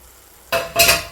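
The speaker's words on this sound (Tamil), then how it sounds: "நம்ம நல்லா கிளறி விடுவோம்" Paneer gravy is stirred in a pan with two quick scraping strokes, each bringing a short burst of sizzle after a near-silent start.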